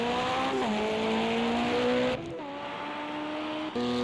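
A Porsche race car in a Le Mans 24 Hours sim race roars with a loud sustained engine note, shifting gears twice as it passes close, with a brief dip and tire noise between shifts.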